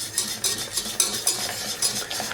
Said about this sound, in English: it's very important you stir all the time